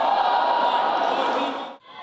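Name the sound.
volleyball team shouting a training chant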